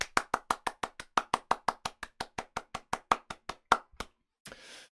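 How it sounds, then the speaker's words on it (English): A single person claps for a speaker at a virtual conference, about twenty crisp, evenly spaced hand claps close to the microphone. A short soft rustle follows after a pause. "please join me in giving Bhavuna an amazing round the world round of applause"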